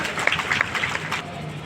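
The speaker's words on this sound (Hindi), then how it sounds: "जोरदार ताली बजाकर सम्मानीय रमन सिंह जी के स्वागत करिए" A crowd at a political workers' rally in Pali Tanakhar breaks into brief, dense applause to welcome Raman Singh, a close, busy patter of clapping with voices mixed in, fading slightly toward the end.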